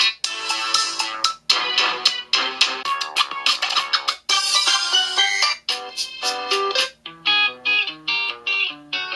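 A bright, melodic ringtone plays loudly from a Bluboo Maya Max smartphone, its tones repeating in short phrases with brief gaps, sounding thin from its single small speaker.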